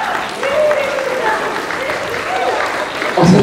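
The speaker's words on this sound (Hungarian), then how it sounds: "tapsot kérünk." Guests at a wedding reception applaud during a father's speech, a steady wash of clapping with a voice carrying over it and a louder burst near the end.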